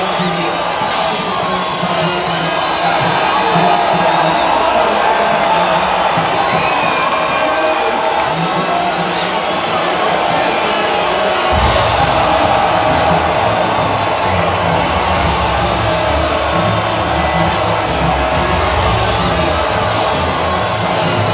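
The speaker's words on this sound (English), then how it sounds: "And absorbing the acclaim of the crowd, George Russell on the top spot." Video game crowd at the F1 25 podium in Jeddah, a loud, continuous roar of cheering, whoops and shouts that swells and surges with sharp bursts partway through, filling the scene without break.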